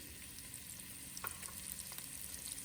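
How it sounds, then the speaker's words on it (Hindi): Onions sizzle steadily in hot oil in a pot, a continuous moderate frying hiss with a few faint clicks of stirring. "हम इसी पॉट पे थोड़ा सा तेल डालेंगे। अब हम इसमें प्याज डालेंगे"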